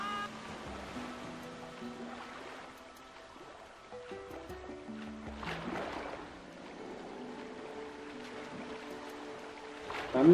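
Water flows and laps in The Legend of Zelda: Twilight Princess near a waterfall, a faint steady rush beneath tonal game music and effects, ending in a louder splash.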